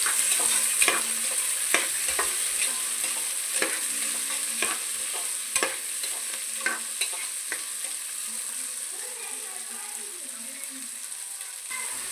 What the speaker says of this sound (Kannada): ಒಗ್ಗರಣೆಗೆ ಹಸಿ ಅವರೆಕಾಳನ್ನ ಹಾಕಿ ಚೆನ್ನಾಗಿ ಫ್ರೈ ಮಾಡ್ಕೊಬೇಕು